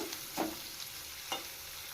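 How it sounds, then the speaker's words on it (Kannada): Onions frying in a pan for egg noodles made from leftover chapati: a soft, steady sizzle broken by two quick stirring scrapes, with no talk. "ಈಗ ಈರುಳ್ಳಿ ಸೇರಿಸ್ತಾ ಇದ್ದೀನಿ ಈರುಳ್ಳಿ ಚೆನ್ನಾಗಿ ಫ್ರೈ ಮಾಡ್ಕೋಬೇಕು"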